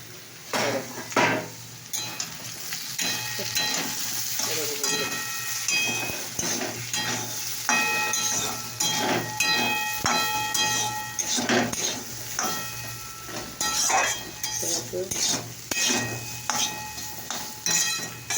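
Potatoes fry in a pan at home, a steady sizzle punctuated by frequent clattering scrapes and knocks of a utensil against the pan as they are stirred, close and busy throughout, with a faint voice now and then.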